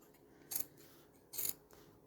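Two crisp snips of scissors cutting fabric open along the centre line of a zipped bag, close and distinct, about a second apart against a quiet background.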